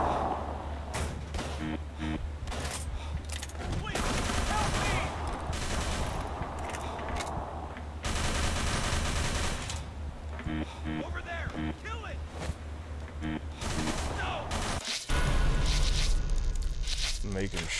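Tommy gun bursts in the Call of Cthulhu: Dark Corners of the Earth video game, loud rapid automatic fire in several bursts and sustained volleys, mixed with footsteps and game noise while a voice talks.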